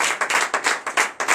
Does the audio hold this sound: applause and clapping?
yes